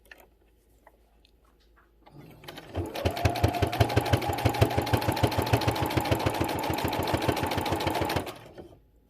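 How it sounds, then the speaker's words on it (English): A sewing machine stitches fabric for a Valentine's accent pillow, starting after a short pause and running at a steady rapid rhythmic clatter for about five seconds before stopping, close and loud with no voices. "I'm pulling the fabric a little bit more to make sure that I'm sewing right here"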